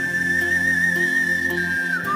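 A professional whistler known for his music whistles a melody. It is one clear, sustained note that slides down at the end, played over a soft musical backing.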